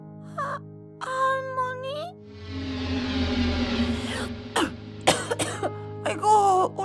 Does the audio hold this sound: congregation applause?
no